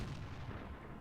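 A tank cannon fires in World of Tanks while a Tiger II holds a defensive position: one heavy, booming blast that rolls on with a rumbling tail, loud and close.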